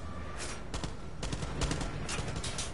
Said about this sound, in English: I was about to say, I hear shots.